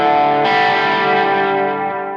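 Electric guitar played through an overdrive pedal rings out as one loud sustained distorted chord, struck again partway through and left to fade slowly, with no talk.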